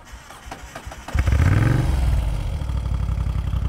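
A 2018 Moto Guzzi V7 III Stone motorcycle engine cranks and catches after a second of quiet, then settles into a loud, steady close-up idle with a low throbbing rumble.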